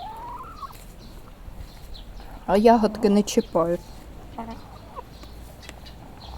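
Chickens kept in a garden cluck in a brief, loud burst of squawks close by, with a person talking quietly before and after.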